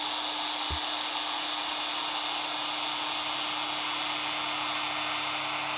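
A MaxShine M550 rotary polisher runs steadily with a smooth, even whirring drone and a faint high whine, close and constant throughout, with no bogging or talk.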